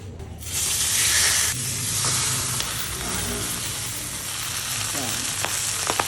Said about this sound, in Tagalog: Meron ako ditong isang buong boneless bangus na hinati sa dalawa at dito ko na siya isinalang